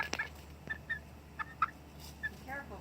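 Chickens pecking around alongside a dog give short scattered clucks and chirps, fairly quiet against a steady low background hum.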